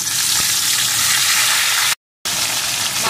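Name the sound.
rohu fish head frying in hot oil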